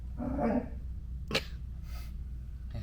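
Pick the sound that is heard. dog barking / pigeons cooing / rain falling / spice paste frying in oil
dog barking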